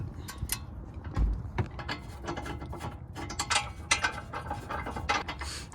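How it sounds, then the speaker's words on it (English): A large 1/2-inch drive torque wrench ratchets while loosening brake caliper bolts on an Infiniti Q50 Sport, giving close, irregular bursts of clicking over several seconds. "I am using this ginormous torque wrench because it's the only 1/2-inch drive thing that I've got"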